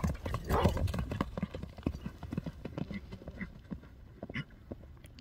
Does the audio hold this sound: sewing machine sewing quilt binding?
no